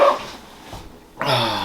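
A dog barks and whimpers at close range indoors, short yipping bursts at the start and again near the end with a quieter gap between.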